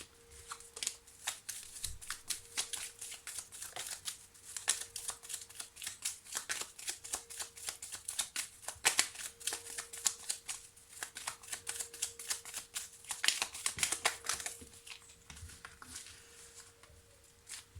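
Petit Lenormand cards being shuffled for a reading make close, soft, rapid riffling and pattering that runs almost continuously, with brief pauses and no talk over it.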